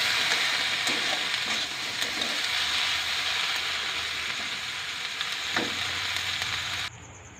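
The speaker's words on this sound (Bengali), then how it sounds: "এর সঙ্গে টমেটো আর লঙ্কাগুলো একটু হালকা করে ভেজে নিই।" Tomatoes and chillies fry in oil in a pan, a steady loud sizzle with occasional scraping stirs, close up and without talk, cutting off abruptly near the end.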